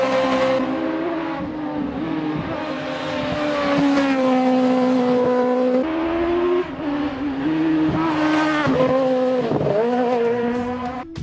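Fiat 126 fitted with a motorbike engine and widened body, driving hard, loud high-pitched revs climbing and falling repeatedly with gear changes and sharp throttle blips.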